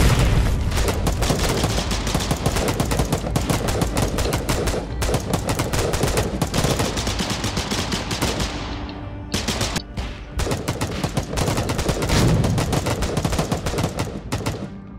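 Dense, loud bursts of rifle and machine-gun fire from Foxhole rattle almost without pause, layered with heavier booms, dropping out briefly near the ten-second mark before resuming.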